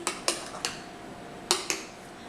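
A metal spoon clinks against dishes while homemade salsa is made, five or six sharp, close taps spaced irregularly with quiet pauses between them.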